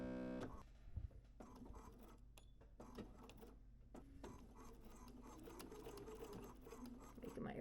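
A sewing machine stitches men's shirt fabric with a close, steady mechanical whir, brief pauses and restarts, alone without talk.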